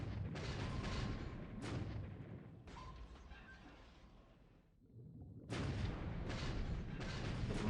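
The destroyer Hull fires naval guns in a WWII war game replay set in December 1941. Several loud booming salvos roll out with rumbling tails, then a brief lull before the fire resumes.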